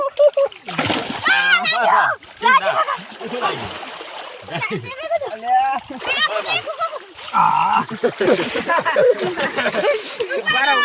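Water splashes loudly and repeatedly as people jump into the water, shouting and chattering excitedly nearby.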